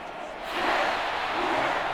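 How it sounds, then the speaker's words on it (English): A home crowd in Madden NFL 23 swells into a broad, steady roar of applause and cheering that rises after a brief lull and holds loud to the end. "And the home crowd applauding."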